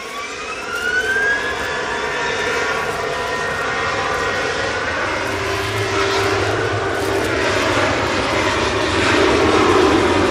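A Ryanair airliner passes during plane spotting, its engine roar steady and loud throughout, with a whining tone rising early and the sound swelling slightly toward the end.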